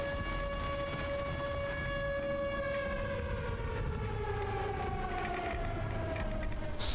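Civil-defense-style siren in the Fallout: London game, a faint wailing tone that holds and then slowly winds down in pitch over several seconds, with no voices.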